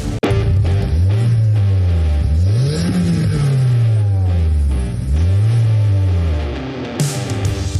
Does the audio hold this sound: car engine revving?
yes